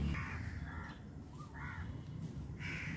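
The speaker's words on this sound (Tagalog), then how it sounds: "May uwak, wait." Crows caw outside around noon, several harsh calls in short bursts spaced a second or so apart, fairly distant and clear over low background rumble.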